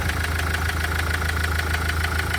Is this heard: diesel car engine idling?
yes